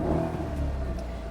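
A Mercedes SL63 AMG V8 revs with a deep, burbling roar, a steady close-up engine drone holding strong throughout.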